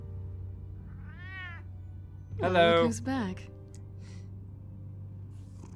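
A cat meows once in the Batman: The Telltale Series video game, a short rising cry near the start, followed by a person speaking warmly over a steady low background hum.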